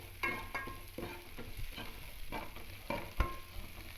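Ginger garlic paste fries in a pan with toasted chana and urad dal, a soft, low sizzle broken by repeated scrapes and taps of a stirring spoon, no talk.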